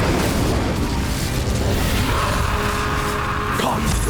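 A Confringo fire spell explodes in the Hogwarts Legacy video game, a dense booming blast over a continuous wash of combat noise, with a short swooping burst near the end.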